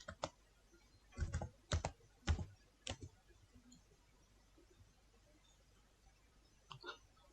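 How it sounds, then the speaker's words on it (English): Keys on a computer keyboard are typed in a short burst of several sharp clicks, then a pause and two more faint taps, close and clear in a quiet room with no talking. "Now type in this search bar Google."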